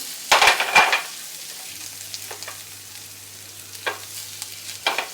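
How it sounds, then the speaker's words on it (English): Ginger sizzles in a hot frying pan, opening with a loud burst of frying, then settles into a softer, steady crackle with occasional louder pops. "Give ginger a nice sizzle."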